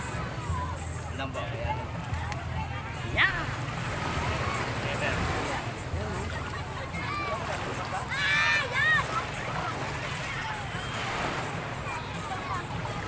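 Sea waves slosh and splash against a small boat on rough open water, a continuous watery rumble with wind noise, while people talk and call out over it at close range.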